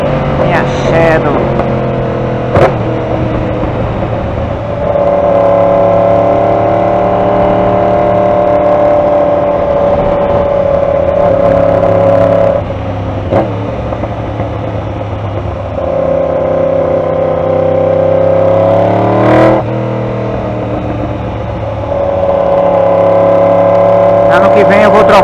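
A Honda Shadow motorcycle rides along a street in Tampa with a steady, loud engine drone that swells and eases with throttle changes, holding close and continuous throughout with brief knocks between.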